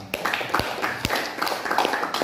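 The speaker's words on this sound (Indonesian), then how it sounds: "Jadi tepuk tangan untuk teman-teman wartawan" A small audience claps for journalists, a loose, uneven scatter of individual hand claps rather than a full roar, with distinct sharp slaps standing out at moments.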